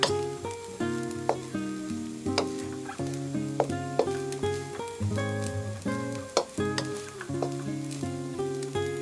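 Rice with mixed vegetables and Chinese sausage sizzles and is tossed in a hot pan, a steady crackling hiss under louder background music with rhythmic notes.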